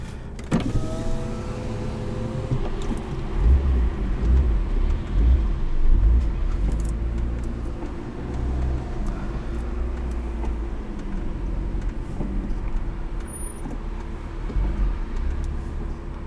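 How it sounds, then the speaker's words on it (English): A 2011 Lotus Evora, driven with the windows down, gives off a low, steady engine and intake induction rumble from just behind the cabin, with a brief electric window whir near the start. "when you have the windows down, all you hear is induction noise because the intake is right behind you"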